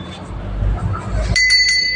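A temple bell is rung during a puja: a few quick, bright metallic strikes ring out after some muffled handling noise.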